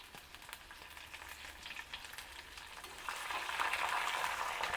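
Chopped green chillies and curry leaves sizzle in hot oil for a South Indian tempering, a steady crackling fry close up that grows louder toward the end.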